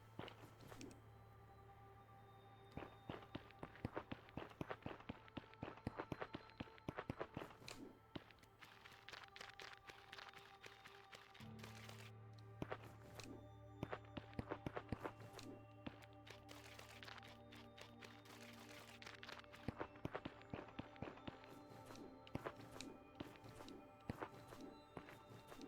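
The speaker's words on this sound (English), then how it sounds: "Because I'm comparing it to, like, the sound of footsteps and things, which are supposed to be quiet." Footsteps in the video game At the Ends of Eras fall in a quick, irregular patter of soft taps over a low steady hum and game ambience, quiet and close throughout.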